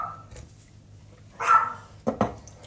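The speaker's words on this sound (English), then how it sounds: "Excuse my dog, she's letting me know she's here." A very small dog lets out a few sharp, high yips and barks close by in a quiet indoor room, with a soft whine early on.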